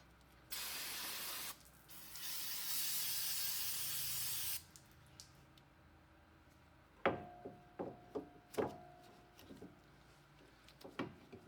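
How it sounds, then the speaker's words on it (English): Brake cleaner sprays onto the front brake caliper of a 2001 Toyota Highlander in two loud, steady hissing bursts, followed by a series of sharp metallic clicks and taps from tools. "spray on the caliper."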